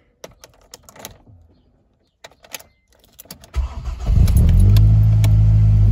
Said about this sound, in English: So when I start the car,